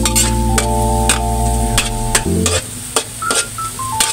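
Squid and papaya sauté in a pan with onion, garlic and ginger. A utensil scrapes and clinks in steady, repeated strokes over a soft sizzle, and sustained tonal background music plays beneath throughout.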